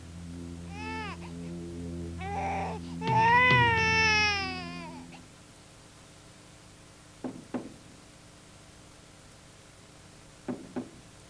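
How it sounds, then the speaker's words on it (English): Knocking at a house door in a stop-motion children's cartoon, two short sets of raps sounding a few seconds apart after a stretch of cat-like meowing and whining vocal sounds, fairly distant and clear against a quiet background. "There's somebody knocking."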